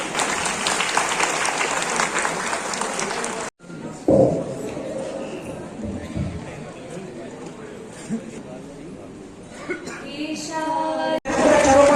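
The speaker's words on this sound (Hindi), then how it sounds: "कृपया तालियां जोरदार बजती रहें" A crowd applauds loudly at a lamp-lighting ceremony opening a government tree-planting event in Jhansi. The clapping stops abruptly after a few seconds and gives way to quieter murmuring voices and scattered small noises, then a loud burst returns at the very end.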